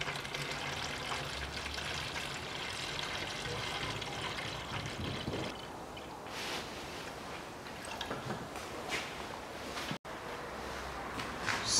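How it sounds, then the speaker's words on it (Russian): Water is poured into the cooling system of a Toyota Mark II JZX101 during an antifreeze change, giving a quiet, continuous stream and trickle that varies slightly in flow over about twelve seconds. "теперь полбанки наливаю воды"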